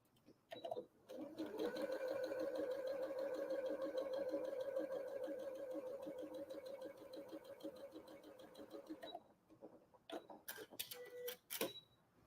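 A sewing machine runs steadily for about eight seconds, stitching quilt block pieces for a Peony Star block, a sustained mechanical whir that then stops, followed by a few light clicks and handling noises.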